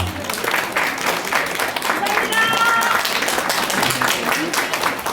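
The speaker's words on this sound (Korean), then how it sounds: "자, 다시 한번 박수 한 번 부탁드리겠습니다." Audience applause fills a founding ceremony of a Korean gogo janggu drum association's Incheon chapter, a dense steady wash of many hands lasting throughout, with voices and scattered cheers mixed in.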